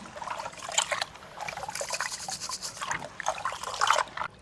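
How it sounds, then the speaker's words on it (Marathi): Close trickling and sloshing of water as rice grains are swished and rubbed by hand in a bowl, continuous with splashy peaks. "तांदूळ आपल्याला एक ते दोन पाण्याने स्वच्छ धुवून घ्यायचे"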